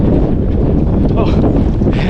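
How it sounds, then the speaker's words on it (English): Wind buffets the microphone during a January marathon training run around a lake loop in Texas, a loud, continuous low rumbling roar with gusty swells. "really feeling that wind now."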